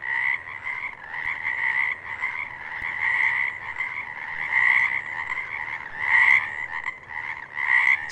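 A dense chorus of frogs croaks continuously, a steady layered chattering with pulsing swells, loud and close with no voices.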